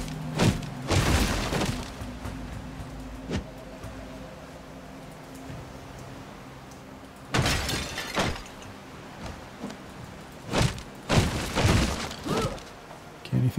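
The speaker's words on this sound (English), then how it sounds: "let's destroy all the containers" Containers are smashed in the video game Soulmask: several sharp breaking and shattering crashes come in separate clusters, loud and close, with quieter stretches of background game sound between them.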